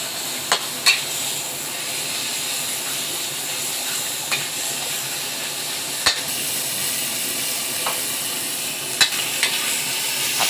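Continuous sizzling hiss of pork and holy basil stir-frying over high heat in a hot wok, with occasional sharp clinks of a utensil scraping and tapping the metal.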